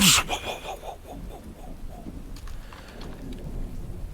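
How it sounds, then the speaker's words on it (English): Thunderstorm sound effect in a tabletop role-playing game: a loud thunder crack at the start rolls off into steady rain pattering on surfaces, with faint rumbles continuing underneath. "The storm above you still continuing"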